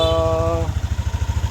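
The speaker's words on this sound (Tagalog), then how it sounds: "Pero parinig ko lang yung tunog ng makina, syempre." A Yamaha NMAX scooter engine idles with a fast, regular putter after a brief tonal whine at the start, close and steady.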